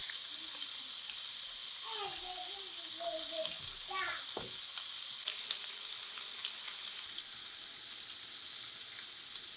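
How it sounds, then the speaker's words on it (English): Oxtail bones browning in a hot pan, a steady bright sizzle and frying crackle throughout, with someone talking over it early on. "We're starting to get some really nice color on these oxtail bones."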